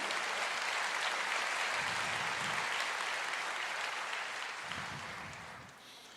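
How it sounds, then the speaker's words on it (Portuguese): Applause from a church congregation fills the space steadily and evenly, holding at full strength, then thinning slightly toward the end. "Pode aplaudir."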